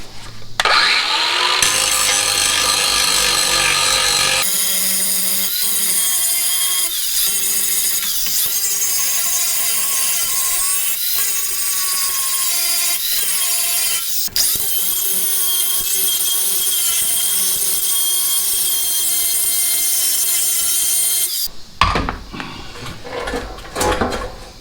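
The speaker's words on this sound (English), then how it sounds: "Move to a slightly bigger cutoff wheel." A cutoff wheel grinds continuously through tack welds on the steel shelf of a Safe-T-Cart oxy-fuel torch cart, a loud, steady high-pitched whine lasting over twenty seconds before winding down.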